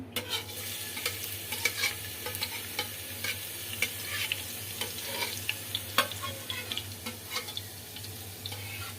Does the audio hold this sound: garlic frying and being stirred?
yes